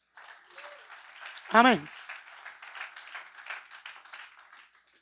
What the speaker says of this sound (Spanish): Palmas al Señor